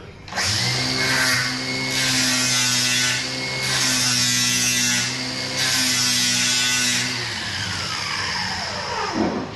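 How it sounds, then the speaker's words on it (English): An angle grinder, laid flat, smooths the jagged freshly cut end of a metal piece during a nitrous system install, whining steadily with the pitch dipping under load in three long passes before spinning down. "you just take the grinder, lay it down flat, and where the end's jagged where you just cut it"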